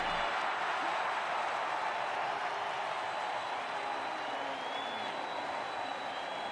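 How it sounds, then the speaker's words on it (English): A crowd roars steadily in a Blood Bowl video game, a dense wash of cheering and applause that holds evenly at moderate volume throughout without a break. "You hear the crowd going wild."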